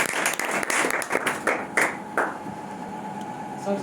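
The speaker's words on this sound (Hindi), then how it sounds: "जोरदार ताली बजाएंगे मुकेश कुमार जी।" An audience at a youth organisation's speech event bursts into loud, dense applause that thins out and fades after a couple of seconds.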